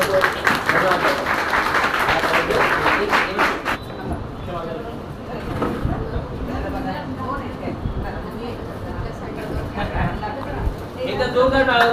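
An audience at a public guidance camp breaks into strong applause for a local deputy mayor. Dense clapping rings out for about four seconds, then fades into crowd chatter and murmuring, with a brief swell of claps at the very end.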